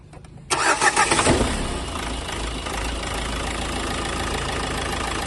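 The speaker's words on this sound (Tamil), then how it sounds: "ஸோ இப்போ வண்டி ஸ்டார்ட் பண்ணுறேன்" Renault Duster engine cranking briefly with a rapid chugging before catching, then settling into a steady, even idle, close by with no voices.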